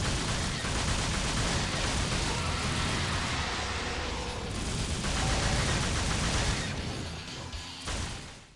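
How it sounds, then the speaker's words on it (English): Rapid handgun fire from the twin pistols Ebony and Ivory in the Devil May Cry action game, a dense, continuous volley of shots layered over loud game effects that hold steady before easing off near the end. "The guns you get are the iconic handguns, first of all, Ebony and Ivory."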